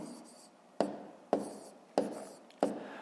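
A pen writes numbers by hand on paper during a fifth-grade multiplication exercise, the soft scratching interrupted by four sharp taps at a steady rhythm, close and quiet.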